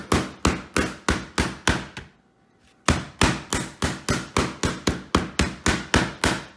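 Meat for braciole pounded flat with a mallet: steady, loud, evenly spaced thuds close by, about two a second, with a short pause partway through before the blows resume.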